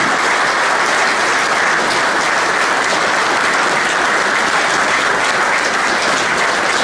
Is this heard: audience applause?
yes